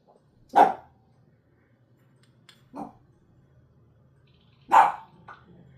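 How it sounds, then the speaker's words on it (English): A dog barks in three separate bursts, two loud and one softer between them, with a quiet room hum underneath. "Excuse the dog."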